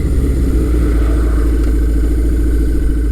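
A 1978 Kawasaki KZ1000 motorcycle engine idles steadily and close by, a low, even rumble that holds level for a few seconds with no voices.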